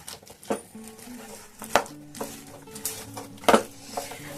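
A sesame and jaggery mixture stirred in a pan off the heat for til patali: quiet, irregular clinks and scrapes of a utensil against the pan, with a few sharper knocks among soft rustling.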